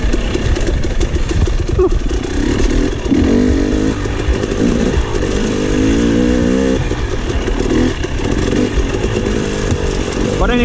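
KTM 300 XC two-stroke dirt bike ridden off-road on a trail, its engine buzzing loud and close, with repeated revving and throttle changes throughout, plus a rider's brief exhale.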